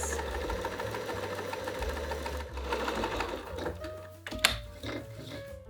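A sewing machine runs a gathering stitch, whirring steadily with brief pauses, shifts in speed and a short reverse stretch near the end, close up and alone.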